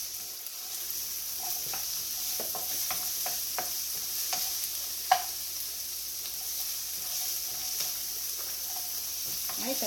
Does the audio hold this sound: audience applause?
no